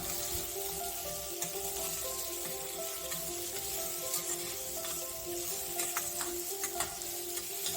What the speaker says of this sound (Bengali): ভালো করে একটু তেলের মধ্যে কষিয়ে নেবেন তাহলে সবজিগুলো ভালো নরম হয়ে যাবে